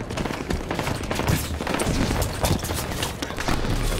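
Dense, continuous gunfire from the Halo 5 video game on the Entombed map during a Slayer match, with overlapping shots and bursts forming a loud, unbroken barrage throughout.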